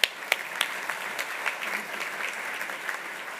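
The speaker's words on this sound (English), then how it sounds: "let's give them all one more round of applause" Applause fills a room at an administrative service awards ceremony, a steady patter of many hands with scattered sharper claps, close and sustained through the whole stretch.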